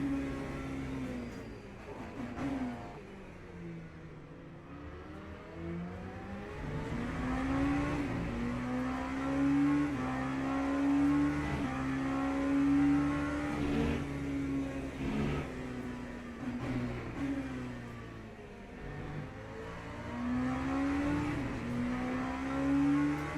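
LMP3 prototype race cars accelerating in the Le Mans Ultimate sim racing game, their engine note climbing and dipping through gear changes in a steady, close, continuous roar with no talk.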